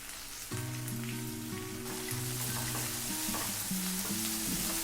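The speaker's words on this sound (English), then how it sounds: "Fry them for few minutes." Mustard greens frying in a pan over a high flame, cooked Southern style: a dense, continuous sizzle and crackle close up, with no voices.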